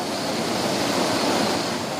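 Surging floodwater in Uttarakhand after torrential rain roars as a loud, continuous rushing wash, steady for the whole stretch with no voices.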